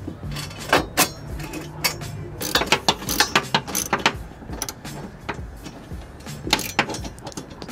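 A hand ratchet tightening turbo bolts on a 1JZ Supra engine, clicking in rapid irregular bursts of close, sharp pawl ticks with brief pauses between strokes.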